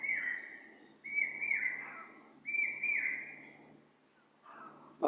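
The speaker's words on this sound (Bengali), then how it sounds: "পাখির এত শব্দ সুন্দর" Birds sing in a natural setting in Bangladesh, with a clear nearby whistling call repeating in three or four sustained phrases separated by short pauses, over a quiet background.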